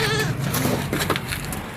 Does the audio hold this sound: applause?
no